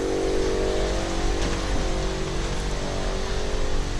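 A 2010 Chevrolet Camaro SS engine, with ported heads and a cam, runs on a dyno, loud and steady with a constant low drone and slight wavering, continuous throughout with no voices.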